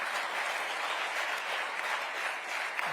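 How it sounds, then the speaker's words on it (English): An audience at an awards ceremony claps in a dense, steady round of applause throughout, moderately loud and with no voices on top. "A big round of applause for Dr."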